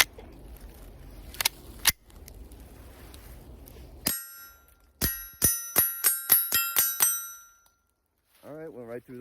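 Suppressed Sig Mosquito pistol fired in a quick string of about nine sharp, ringing shots with metallic ping after each, preceded by a couple of isolated cracks over outdoor background, with a voice speaking briefly at the end.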